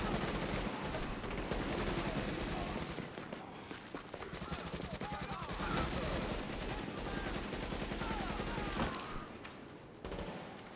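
Dense, sustained bursts of AK rifle fire during a firefight in the video game The Division, loud and continuous with brief pauses, mixed with game effects and talk over the top.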